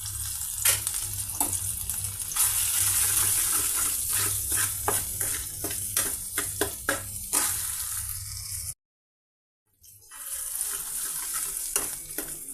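Eggs and red chili powder frying in a pan give off a steady, close sizzle with crackling pops, then a brief silence before the frying sound resumes.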